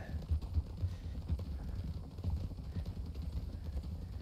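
Faint rhythmic clip-clop of horse hooves on a hard surface in a Red Dead Redemption 2 roleplay game, steady and close, with low rumbling ambience.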